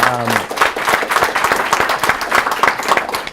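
Audience applause at a literary café talk, a dense, steady wash of many hands clapping filling the whole stretch, with a brief voice at the very start.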